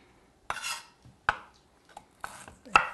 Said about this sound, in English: now I'm going to cut that end off.